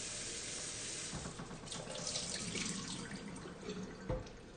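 Mushrooms rinsed under a running kitchen tap, a continuous close splash of water into a sink with small bursts as the stream hits them.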